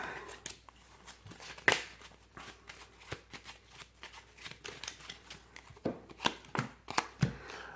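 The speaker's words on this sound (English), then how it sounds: "Let's go ahead and shuffle up" Transformers trading cards are shuffled by hand in a steady run of quick riffling, snapping bursts, close and fairly loud, with no talking over it.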